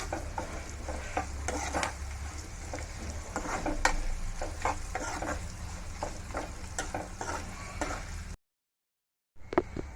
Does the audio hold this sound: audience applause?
no